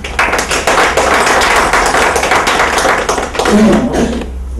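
An audience at a French political party gathering honouring a nomination applauds: dense, loud clapping fills the whole stretch and thins out at the very end.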